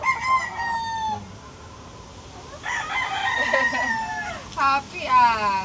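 Chickens crowing and clucking nearby, with a long rooster crow at the start and more crowing and clucks that rise and fall through the rest, with speech-like sounds mixed in.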